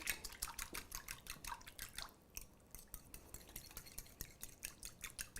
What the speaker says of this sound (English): I'm just gonna grab a fork and then whisk this together